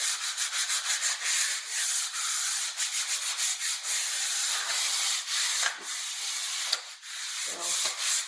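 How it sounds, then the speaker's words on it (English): Hand sanding of wood furniture with medium 100 grit sandpaper gives a steady, close, rhythmic scratchy rubbing of light back-and-forth strokes, running continuously with no talk. "here is my 100. It's not as coarse. It's medium. And I'm just kind of lightly going over this."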